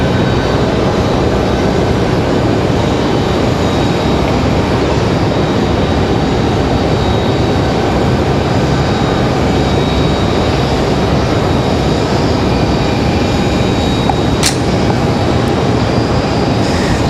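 A Delta airliner taxis and lands at Raleigh-Durham International Airport, heard as a loud, constant jet engine roar with a broad rumble that persists throughout, steady and without breaks.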